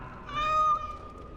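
A cat meows once in the Dragon Age: Origins video game, a single clear, drawn-out call standing alone over quiet background ambience.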